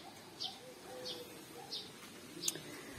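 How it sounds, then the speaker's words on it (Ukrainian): A sparrow chirps outdoors in a garden, four short separate chirps spaced about half a second apart, soft against a quiet background. "Горобець чирікає."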